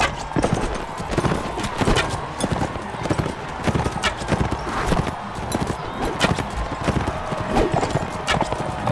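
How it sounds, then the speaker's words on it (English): Horse hooves clip-clop in a steady rhythm in a video game, loud and continuous, with an occasional neigh and a person talking over them. "I'm gonna park my horse."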